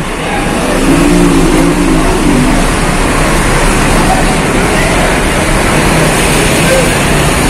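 A Samarinda Mulia intercity bus from the Ambulu route pulls away, its engine a loud, continuous close-up rumble and roar that holds steady throughout.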